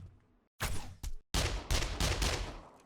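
Sharp, loud gunshots fired at a bear in the zombie survival game 7 Days To Die, a few separate close shots followed by a longer rapid burst, with no talking.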